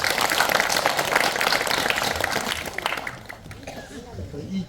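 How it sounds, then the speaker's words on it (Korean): Audience applause at a literary award ceremony for a fiction prize, a dense steady clapping that fills the room and then thins out toward the end. "여러분 박수로 맞아주시죠."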